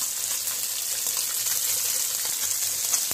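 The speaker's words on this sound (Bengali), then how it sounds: "মাখানো মাছগুলো অল্প অল্প করে ভেজে নেব।" Small fish marinated in turmeric and salt frying in oil over a medium flame, giving a steady, close, continuous sizzle and hiss with no voices.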